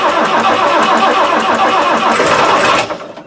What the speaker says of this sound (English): There you see, it's trying to start even with no preheat.